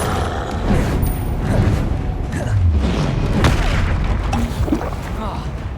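A booming fire-spell blast from the Confringo spell in Hogwarts Legacy rolls through dense combat noise, heavy low thuds layered under a voice speaking during the fight.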